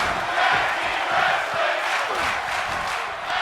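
Crowd in a tag team wrestling video game roaring and chanting continuously throughout, a dense, loud wall of voices with rhythmic swells.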